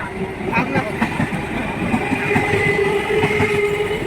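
A moving train rumbles and clatters in a steady, continuous roar with rhythmic clickety-clack, heard from on board, with a faint voice underneath.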